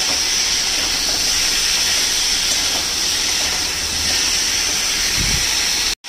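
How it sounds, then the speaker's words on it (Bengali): Drumstick and potato pieces stir in hot oil over a medium flame, giving a steady, loud, broadband sizzle and hiss that runs throughout and cuts off abruptly at the very end. "তেলে একটু নেড়ে নেবো এটাকে।"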